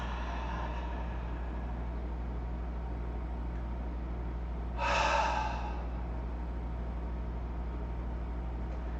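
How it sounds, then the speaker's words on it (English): A single deep, breathy yoga exhale through the nose or mouth, close and clear, rising out of a quiet room with a low steady hum underneath. "send it out on each of the next couple exhales"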